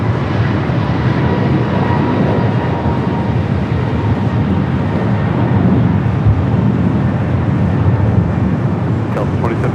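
An Air France Boeing 777 airliner at Los Angeles LAX airport gives off a loud, steady broadband jet roar that holds without letup throughout, heard from a distance.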